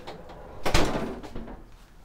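A drawer in the bathroom area of a 2004 Gear Box 260 FB camper trailer slides and knocks shut once, a short close thud with a little rattle after.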